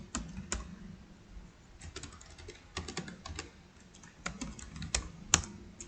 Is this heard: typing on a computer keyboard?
yes